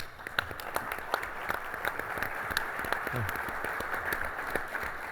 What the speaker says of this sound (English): You guys are getting better at this applause thing